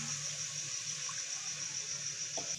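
Water poured into a pan of frying masala for chicken kofta, a steady hissing sizzle and splash of liquid running without a break over a short stretch, no one talking.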